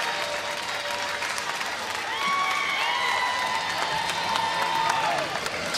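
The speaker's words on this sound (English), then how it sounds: "the crowd from Seattle, all on their feet, wearing their green" A standing crowd of Seattle fans applauds and cheers at a Little League World Series baseball game, a steady wash of clapping and cheering that holds loud and continuous with faint whistles rising above it.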